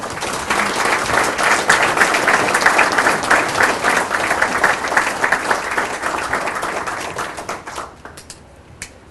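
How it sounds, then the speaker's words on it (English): A banquet audience gives a full round of applause at a Hall of Fame induction. The clapping is dense and steady for about eight seconds, then thins out and fades near the end. "let's give a nice round of applause as we bring up Mr. Chad Sunham"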